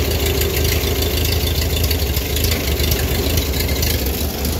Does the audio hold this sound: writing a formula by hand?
no